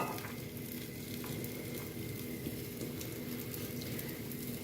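A Brussels sprouts quesadilla cooks in a hot pan with a soft, continuous sizzle and crackle, faint and steady with no talking.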